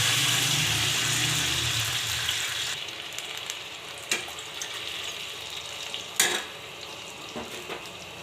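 Water pours into a pot of lightly roasted whole spices for Afghani mung dal, a hissing sizzle fading over the first seconds, followed by a few clinks of utensils.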